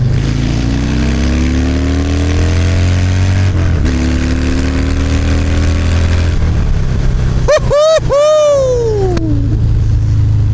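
A Harley-Davidson Dyna Fat Bob motorcycle engine idles with a deep loud rumble, then revs up twice in sharp rising-and-falling bursts near the end, captured close with no one speaking.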